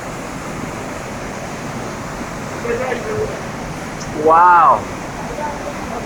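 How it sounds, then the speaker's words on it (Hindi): Rushing waterfall in a scenic mountain valley gives a steady broadband roar through the whole stretch, with a brief voice exclaiming over it partway through. "ये आबशार देखें फिर से, वाह कितनी स्पीड से चल रही है"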